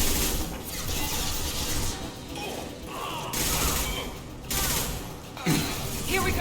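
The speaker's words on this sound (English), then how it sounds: "Blue Suns and Vorcha shooting anything that moves." Sci-fi firefight in Mass Effect 2 with Blue Suns mercenaries and Vorcha opening fire, a dense, continuous clatter of rapid shots and mechanical impacts, loud and close with brief breaks, while a voice talks underneath.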